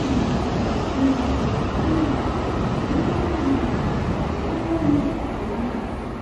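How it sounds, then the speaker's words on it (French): A tram in a Japanese street rolls past with a continuous steady rumble and faint squeals, loud and close for several seconds, with no talking. "Là, le tram."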